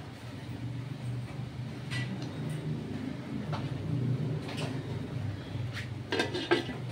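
Metal clinks and a lid clattering onto a pot of simmering tangra fish curry with potato and brinjal, a few sharp knocks near the end over a steady low bubbling hum.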